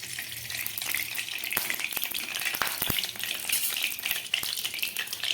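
Hot oil sizzles steadily in a karahi set up for cooking broiler chicken, a dense close crackle with sharp pops running throughout.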